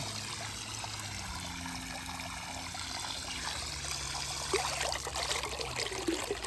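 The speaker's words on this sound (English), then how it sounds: "we're going to cut our pump on" Water from a pool fountain pump trickles and splashes steadily into an above or below ground pool, a soft continuous flow with a low pump hum and slightly brighter splashing toward the end.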